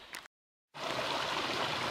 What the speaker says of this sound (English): I hear running water to my right